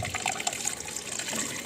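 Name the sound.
distilled water flushing through car cooling system, dripping out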